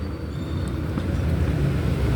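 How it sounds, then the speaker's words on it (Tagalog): Steady engine drone and road rumble inside a tricycle moving through city traffic, a continuous low hum that builds slightly louder as the ride goes on. "Sumakay ako ng tricycle."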